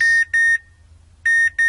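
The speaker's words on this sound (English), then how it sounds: "Did you see the alarm?" A Pomodoro timer alarm sounds a series of sharp, high electronic beeps in pairs, with a brief silent gap between the first and second pair, close and clear with no speech.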